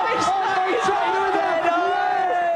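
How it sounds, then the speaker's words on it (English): Studio crowd on the GamesMaster TV show, series 2, cheering and whooping loudly and steadily over a tense stalking game, a dense wall of yells and chatter with voices mixed in. "The crowd's going."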